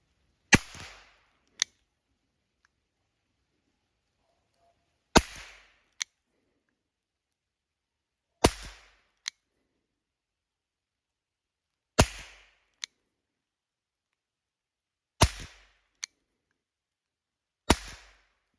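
Six sharp, loud gunshots from a CEM RS 1.0 Flobert rifle fired at 20 metres, spaced several seconds apart, each a crisp crack with a brief echo, plus small clicks of a mechanism between shots.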